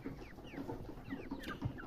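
Chickens cluck on a poultry farm, soft scattered calls and chirps over a steady low barn ambience, fairly faint and continuous.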